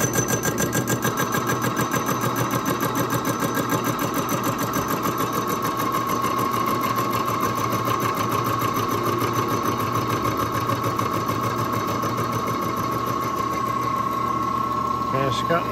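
A CNC mill spindle runs steadily while cutting a turbine housing, giving a continuous loud machine whine with a strong sustained tone and dense mechanical chatter throughout.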